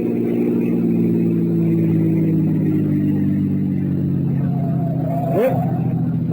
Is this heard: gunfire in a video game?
no